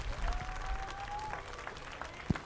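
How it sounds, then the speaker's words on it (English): A crowd at a dirt-track race car event gives a driver a round of applause, a soft scattered clapping heard from a distance and fairly faint, with a brief whistle-like tone and a light thump near the end. "Give him a great big round of applause."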